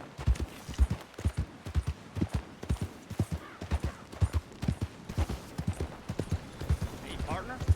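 Horse hooves galloping in the video game Red Dead Redemption 2, a steady, close, rhythmic clip-clop that continues throughout with no pause.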